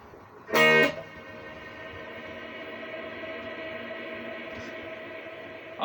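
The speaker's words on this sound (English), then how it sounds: "and then there's the particle reverb" Guitar played through a particle reverb effect: one loud, bright strum followed by a long, shimmering, evenly sustained wash of reverb that hangs for several seconds and slowly thins out.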